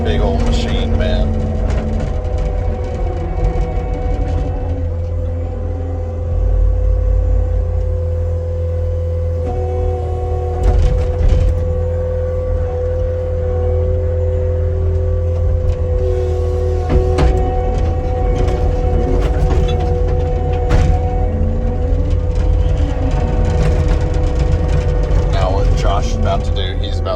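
A heavy 12,000-pound brush clearing machine's engine runs in a steady deep drone with constant low hum and occasional mechanical clanks, close and loud throughout, with someone talking over it at times.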